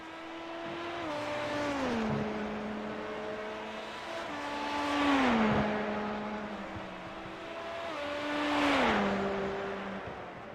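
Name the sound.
race cars driving at Le Mans in iRacing video game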